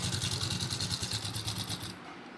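A sewing machine stitches the folded bottom hem of men's underwear, a close, fast rhythmic chatter of the needle that runs for about two seconds before stopping abruptly.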